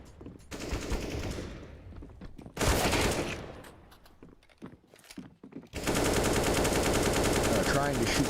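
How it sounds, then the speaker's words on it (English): Gunfire from the video game CS:GO, fired through a wall, with loud bursts of rapid automatic shots separated by quieter stretches of game noise, close and dense. "Trying to shoot through wall, get somebody that way."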